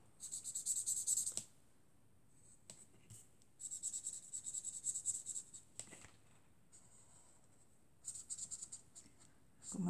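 A POSCA felt-tip marker coloring on paper, scratchy bursts of strokes separated by pauses, close and fairly quiet.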